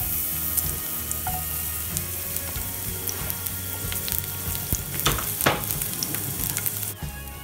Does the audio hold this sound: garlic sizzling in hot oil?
yes